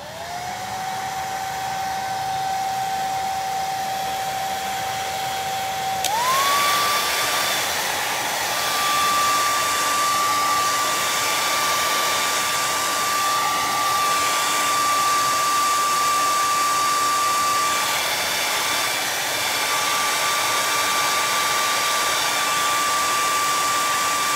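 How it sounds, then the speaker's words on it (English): A hair dryer blows continuously at close range over wet stenciled paint on a craft project, a loud steady whir with a high whine that jumps up in pitch as it switches to a higher setting. "I have to hit this with a blow dryer"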